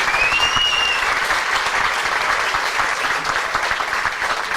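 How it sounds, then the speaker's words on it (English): Warm, sustained applause from diners at a high school sports hall of fame banquet, a steady even roar of many hands with a brief whistle near the start. "Let's have a nice round of applause."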